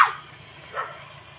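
A dog gives two short, faint barks about a second apart. It sounds distant over a quiet background hum.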